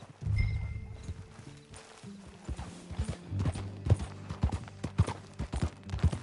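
Horse hooves clip-clop while riding in the video game Red Dead Redemption 2, steady rhythmic thuds close by, with a brief neigh near the start.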